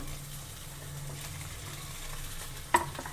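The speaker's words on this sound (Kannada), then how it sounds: "ಇದನ್ನು ಸ್ವಲ್ಪ ಚೆನ್ನಾಗಿ ಫ್ರೈ ಮಾಡ್ಕೋಬೇಕು" Small chopped potatoes frying in a pan with a soft, steady sizzle at moderate distance, then a single sharp clink of a utensil near the end.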